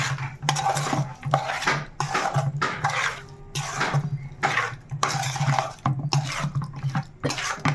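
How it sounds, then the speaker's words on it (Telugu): A spoon scrapes and clinks against a bowl while raw prawn pickle is stirred, steady close metallic scraping strokes with a low hum underneath. "అయిపోయినాయి బాగా కలిపేసుకుందాం"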